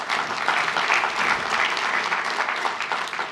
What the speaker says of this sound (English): So if I could get a round of applause